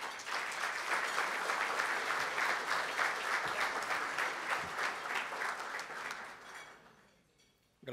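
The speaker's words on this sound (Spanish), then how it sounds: "Recibimos con un fuerte aplauso al señor Roberto Palermo" Audience at a televised public event gives a strong round of applause welcoming a speaker, dense sustained clapping that tapers off and stops near the end.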